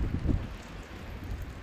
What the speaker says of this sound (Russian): Видите, какой сильный ветер.